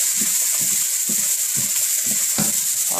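Onions caramelize in oil in a pan while being stirred for hibachi beef fried rice, a steady bright sizzle close to the mic with rhythmic scraping strokes of the utensil about twice a second.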